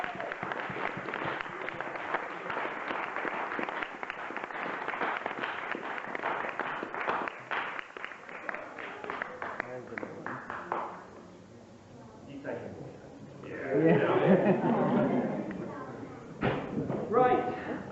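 Applause and cheering from wedding guests at a reception, a dense wash of clapping that carries on for roughly eleven seconds, then fades and swells again in a second, rougher burst.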